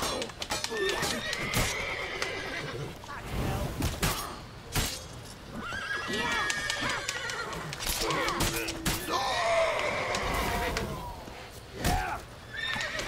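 A horse whinnies and snorts in the video game The Witcher 3: Wild Hunt, amid clattering hooves and busy action sounds, with a voice talking over parts of it.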